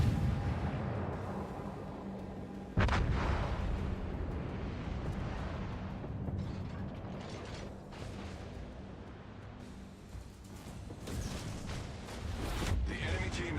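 Torpedo impacts and ship gunfire in the naval combat game World of Warships, a dense rumbling battle din with a heavy boom near three seconds and further crashing bursts later, loud and continuous.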